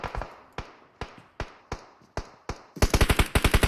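Gunfire in a PUBG Mobile esports match around Chavoy: sharp single shots spaced roughly half a second apart, then a rapid automatic burst of loud cracks near the end.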